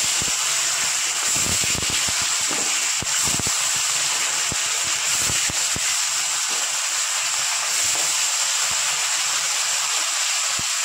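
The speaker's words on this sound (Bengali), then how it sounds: "তেল গরম হয়ে গেছে, এক এক করে মাছগুলো আমি ভেজে নেব।" Bata fish fry in hot oil in a kadai, producing a loud continuous hissing sizzle with scattered sharp crackles and pops, close up with no voices.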